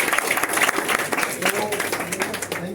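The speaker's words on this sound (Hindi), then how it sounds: "ताली बजाओ भाई इन बच्चों को" Students get applause from a seated audience: a dense burst of many hands clapping, loud and steady for a few seconds, with voices mixed in.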